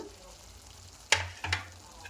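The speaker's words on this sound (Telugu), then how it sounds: "ఇదంతా మంచిగా కలిపేసుకొని ఫ్రై చేసుకుందాం మసాలా అంతా" Masala with lotus seeds (phool makhana) fries quietly in a pan, with two short scraping stirs close by over a soft, steady sizzle.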